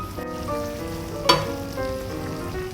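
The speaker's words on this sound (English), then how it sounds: "Now we're going to be cooking it onto the stove for another 5 minutes to make sure the sauce is nice and hot." Tomato sauce simmers and sizzles in a pan on the stove while being stirred for a healthy spaghetti dish, a soft continuous bubbling with one sharp clink of a utensil partway through.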